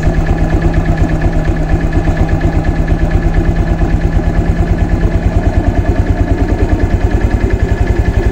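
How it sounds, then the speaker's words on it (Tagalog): Honda Click 125 V3 fuel-injected scooter engine idling with a rough, misfiring run, a steady rapid pulsing putter with regular knocking beats, close and loud, no talk. "I-start muna natin yung motorcycle."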